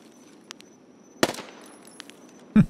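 Burst of UZI Pro pistol gunfire in a video game, a sharp crackling volley of rapid shots followed by another loud short burst near the end, over a quiet background.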